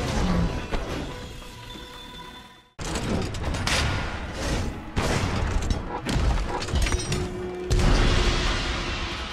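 Lance thrusts in Monster Hunter World land as heavy thuds, booms and crashing impacts in close, irregular bursts, with a brief drop to near silence before the clashes resume louder.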